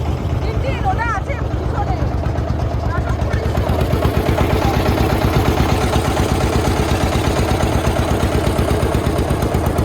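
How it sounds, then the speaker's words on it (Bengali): A small motorboat engine chugs steadily and loudly nearby, a rapid low putter that persists throughout, with a voice speaking briefly at the start. "দাদা ভটভটি চালাচ্ছে"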